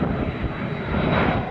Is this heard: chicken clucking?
no